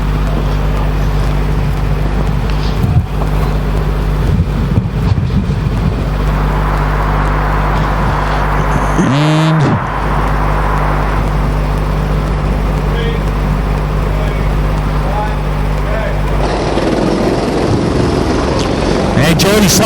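Cadet racing karts at the start of a sprint series race, a steady dense engine drone throughout with a brief rising whine partway and wind buffeting the microphone; a commentator talks over it.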